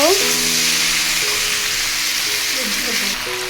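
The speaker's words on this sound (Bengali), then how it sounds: "রসুন থেতো করা রসুন দিয়ে দিল। কচুগুলো দিয়ে দিল।" Taro pieces and crushed garlic, with ginger already in the pan, fry in hot oil with a loud, steady sizzle that stays dense throughout and eases slightly near the end.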